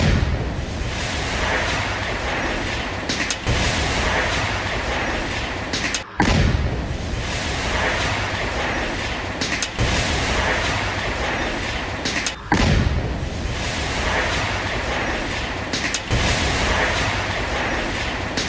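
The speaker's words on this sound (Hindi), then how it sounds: "धमाके को सुनिए," Loud, continuous roar of a large blast demolishing a house, with repeated heavy booms and crackling debris, filling the whole stretch with dense noise.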